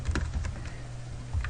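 Rapid keystrokes on a computer keyboard as a query name is typed, steady close clicking throughout with no talk.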